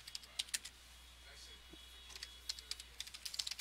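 A search being typed on a computer keyboard, heard as a quick run of crisp, close key clicks in short irregular bursts over a faint steady hum.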